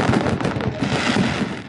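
Fireworks going off in a fast, crackling barrage of overlapping bursts and pops, loud and steady throughout with no speech.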